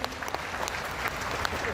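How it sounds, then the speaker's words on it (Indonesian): A crowd at a talk on civil servant wellbeing breaks into applause, giving a short burst of scattered clapping that mixes with background talk and room noise. "Tepuk tangan berikan."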